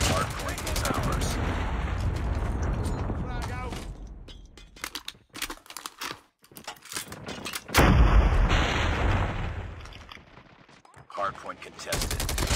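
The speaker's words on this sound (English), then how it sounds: "Friendly predator missile inbound." Call of Duty Mobile Hardpoint match with loud gunfire bursts and a heavy predator missile strike booming near the middle, mixed with crackling battle noise and announcer-style voice lines.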